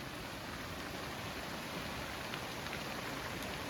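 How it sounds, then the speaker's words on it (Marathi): Steady rain falls continuously, a dense even hiss of drops on surfaces with no pauses and no voices. "पाऊस आहे ना तिकडे चालू झाला बघा परत"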